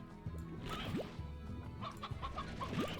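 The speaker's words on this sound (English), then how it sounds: "It does, however, give me the opportunity to grab some more chickens." Chickens cluck in a video game, with repeated short clucks and squawks scattered over a steady game background, up close and fairly loud.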